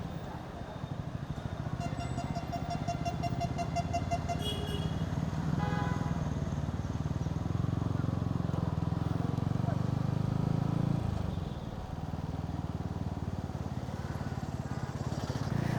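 A broken Yamaha motorcycle rides through a tunnel between Bhutan and India, its engine drone loud and steady, echoing throughout with a horn-like tone near the start and voices talking over it.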